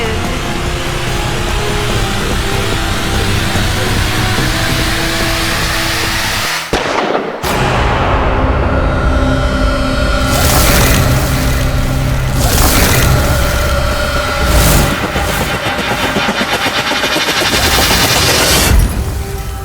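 Gunfire in a Hindi crime TV drama episode: a loud, dense barrage of cracks and booms runs almost nonstop, broken by a brief gap and then heavier repeated blasts. No one speaks.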